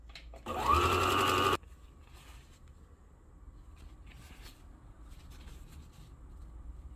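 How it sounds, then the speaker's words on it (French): A PFAFF Expression 2036 sewing machine runs decorative stitch 19 in one quick, loud mechanical whirring burst of about a second, then stops, leaving a quiet room with faint rustling. "je peux faire mon point décoratif"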